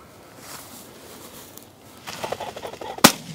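A single sharp shotgun report rings out during a bird hunt in open field, loud and abrupt after a few seconds of rustling and footsteps.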